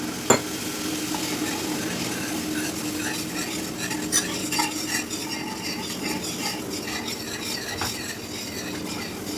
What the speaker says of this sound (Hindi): विस्कर यूज़ करना है।